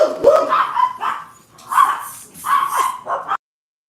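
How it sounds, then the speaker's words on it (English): Several dogs bark indoors in short, sharp bursts, loud and close, with a brief lull midway before a second volley of overlapping yips and barks that cuts off abruptly. "the dogs are throwing a fit"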